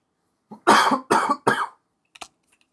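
A person coughs three times in quick succession, loud and close, then gives one small trailing cough after a short pause.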